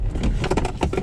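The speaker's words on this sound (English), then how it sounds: "I had the key loose there, so that was what that noise was." A loose key rattles in a BMW 320d xDrive M Sport during a hard emergency stop, quick metallic jingles over a low rumble of the car braking.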